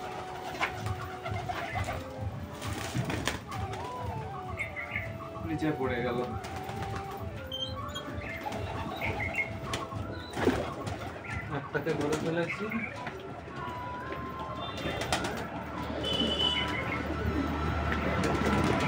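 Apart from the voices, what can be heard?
domestic pigeons cooing and flapping wings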